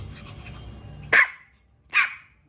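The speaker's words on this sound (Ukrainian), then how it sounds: "Ну не гавкай, чому ти гавкаєш?" A dog gives two sharp, loud barks close by, roughly a second apart, the first following some soft panting and breathing, with quiet between the barks.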